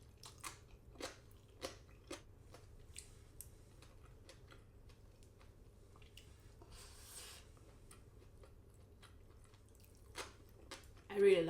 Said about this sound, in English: I like the crunch.